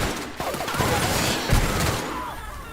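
Rapid gunfire from a weapon in The Outer Worlds, a steady stream of shots mixed with crashes and game effects, moderately loud throughout.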